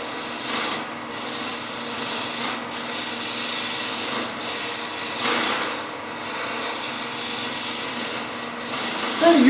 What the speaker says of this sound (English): Kind of using, I guess, what I would call a shearing cut with the side of the gouge.